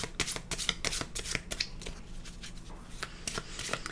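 Animal oracle cards are shuffled by hand in quick, close riffling bursts, a rapid papery flutter with brief pauses, fairly quiet and with no talk over it.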